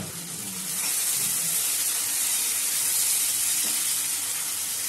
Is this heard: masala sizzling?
yes